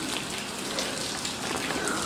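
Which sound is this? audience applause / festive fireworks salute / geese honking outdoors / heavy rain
heavy rain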